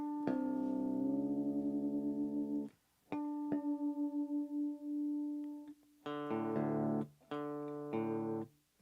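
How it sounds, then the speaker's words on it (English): Electric guitar being tuned for a rock and metal stream: single sustained plucked notes ring out one at a time with long decays, repeated in bursts with short pauses, then strummed chords close and loud, no talking. "I got to tune my guitar real quick."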